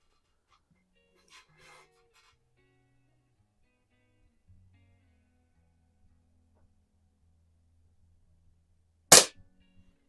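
An Air Venturi Comp10 10-meter air pistol fires a single sharp, snappy pop near the end, after mostly quiet stretches with faint handling rustles and a low hum.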